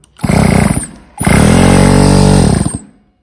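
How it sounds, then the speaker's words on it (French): Electric starter cranking a motorcycle engine salvaged from a dump, with no ignition yet: two loud, close bursts of rapid mechanical churning, the second longer, separated by a short pause. "je vais déjà vérifier en direct si le démarreur électrique fonctionne"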